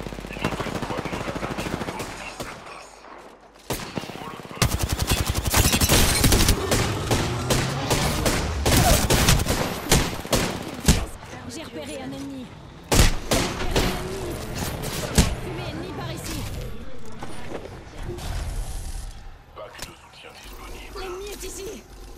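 Apex Legends gunfire: repeated automatic bursts and sharp single shots with heavy thuds, loud and close, coming in waves with quieter gaps, while a voice talks over parts of it.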